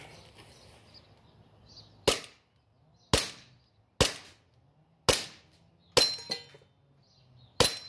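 Glock 18c airsoft pistol firing at a target from about ten feet, six sharp separate cracks spaced roughly a second apart, loud and close, with quiet gaps between shots.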